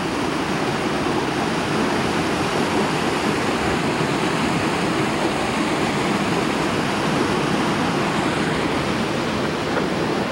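Hot, highly acidic geothermal streams rush through gorges at Waimangu in a dense, steady roar of flowing water, loud and unbroken with no talking.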